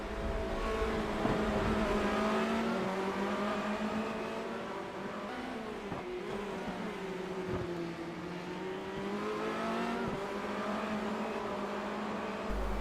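Formula Renault 2.0 race cars lapping at Road Atlanta, with a continuous whining engine drone that rises and falls in pitch through gear changes, moderately loud and steady throughout.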